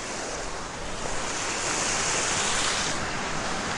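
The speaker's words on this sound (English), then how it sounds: "Look, water." Waves wash in a steady broadband roar at the water's edge, loud and constant with a slight swell midway, and some wind buffeting the microphone, with no talking.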